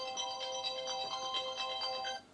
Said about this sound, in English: That's my alarm telling me to get out of bed.